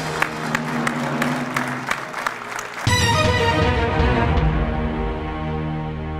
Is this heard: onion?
no